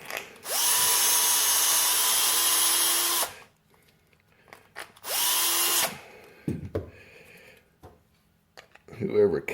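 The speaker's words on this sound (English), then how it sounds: "a stepper bit is the way to go" A power drill with a stepped bit bores through a bulkhead fitting in two long, steady whining bursts, each ending abruptly and followed by light clanks and handling noises.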